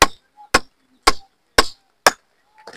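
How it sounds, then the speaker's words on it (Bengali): Five sharp, evenly spaced chops as a blade cleaves through the head of a large catla carp, each hit loud and close with a quick decay, followed by a faint rustle. "মাছের মাথা কাটছি"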